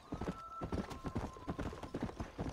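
Horse hooves gallop in the Red Dead Redemption video game, a quick, rhythmic clip-clop of repeated hoofbeats at moderate volume with no talk over it.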